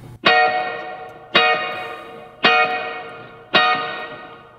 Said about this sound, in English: what we've got going on there is a little US Deluxe with a 63 spring reverb